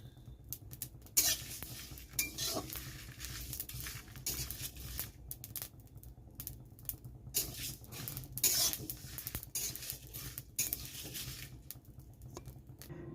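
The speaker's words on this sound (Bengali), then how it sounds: "মশলাটা এমনভাবে ভাজতে হবে যাতে পুড়ে না যায়।" Spices are stirred and fried in a pan for homemade sweet mango pickle, giving irregular close scraping, pattering and clinking of the utensil against the pan, with no talk.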